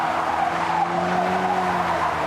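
A Ford Focus RS in drift mode squeals its tires in a sustained, loud, close skid with a steady tonal whine over engine roar.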